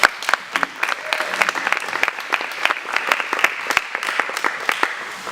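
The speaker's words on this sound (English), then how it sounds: "Big round of applause, please." Applause at a student common room meeting, a room full of people clapping in dense irregular bursts for about five seconds, fairly loud and close with no talking over it.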